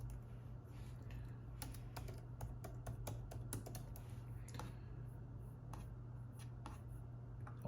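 Someone types a password on a computer keyboard, giving a quick irregular run of soft key clicks at close range over a low steady hum, with no speech.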